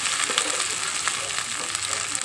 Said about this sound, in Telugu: ఇప్పుడు ఉల్లిపాయ ముక్కలు వేగాలండి